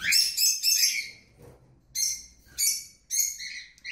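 A young lovebird about forty days old chirping, loud, close, shrill bursts of calls in a broken rhythm with short pauses between.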